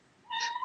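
A cat gives a single short, rising meow, close and fairly quiet, on its own.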